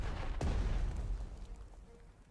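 A single heavy artillery shell fires in the Panzer Strategy war game, a sudden boom with a rumbling tail fading over a couple of seconds, heard fairly quietly.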